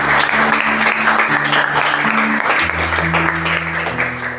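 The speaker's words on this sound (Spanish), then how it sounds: "Le damos un fuerte aplauso al Señor por esto." A church congregation breaks into steady applause during a sermon, the clapping dense and sustained across the whole stretch, with a held music tone underneath.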